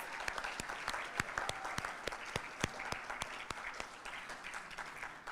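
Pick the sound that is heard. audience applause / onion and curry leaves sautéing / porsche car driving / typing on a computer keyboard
audience applause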